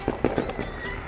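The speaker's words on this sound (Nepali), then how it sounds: "पल्लोपट्टि चारैपट्टि पटाकाको गुन्जामान छ है।" Firecrackers burst all around at night around 9 to 10 pm, a quick cluster of four or five sharp pops from varying distances over a low background hum.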